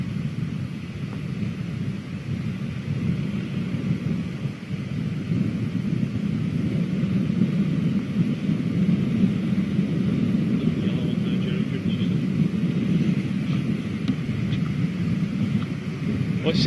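An Antonov An-225 Mriya taking off from Glasgow Prestwick, a distant continuous low roar of jet engines that swells slightly and holds steady.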